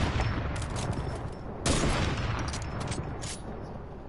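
Rapid gunfire in a shooter video game crackles in a steady, dense volley, with a sharper loud burst partway through, sounding close and continuous without pauses.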